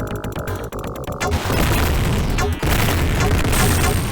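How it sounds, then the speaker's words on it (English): An enemy bursts apart in blood in a Sega Genesis game, a loud crunching explosion that comes in after some sharp rhythmic game sounds and then runs on as a dense, noisy roar. "the explosion of blood when you take out an enemy."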